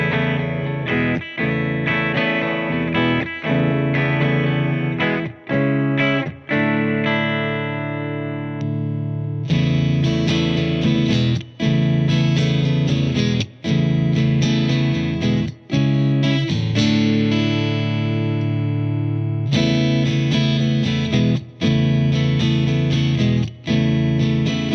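A PRS Custom 24 Piezo electric guitar plays through its acoustic piezo pickup, strummed chords and picked notes ringing out loud and clear in a continuous passage with brief gaps between phrases.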